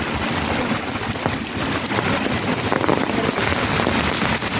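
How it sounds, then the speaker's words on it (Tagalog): Heavy rain pours steadily, drops pattering densely on nearby surfaces in a constant loud hiss. "Ulan."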